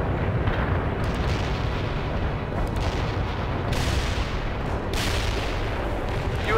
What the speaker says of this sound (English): You have incoming fire,